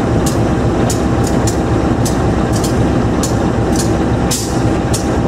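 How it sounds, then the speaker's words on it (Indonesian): Argo Wilis express train on the southern line in Bandung passing close by, a loud continuous roar with a regular series of sharp clacks from the wheels crossing rail joints, no voices. "Persiapan melintas langsung kereta api Argo Wilis Sang Raja jalur selatan."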